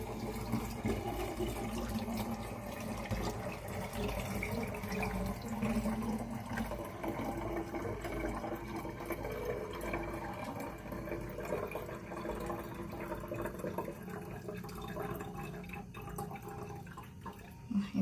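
Homemade cola is poured into bottles, a steady close liquid rush and gurgle that continues for the whole stretch at an even level with no talking.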